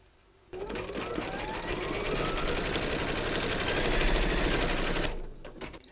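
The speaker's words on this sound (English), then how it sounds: "Pop your hoop into your machine and stitch round number five to secure them." An embroidery sewing machine stitches a hooped design with yellow thread, a loud continuous rapid needle clatter and motor whir for about four and a half seconds before stopping.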